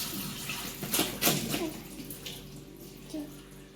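Running water from a tap splashes and gurgles over raw chicken pieces as they are washed for biryani, a steady close rush with a few louder splashes, while a person talks faintly in the background.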